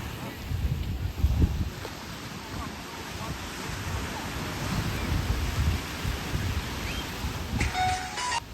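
Steady wind and ocean surf at Cape May Beach, a continuous broad rushing roar with gusty low rumble, loud and close throughout with no talk.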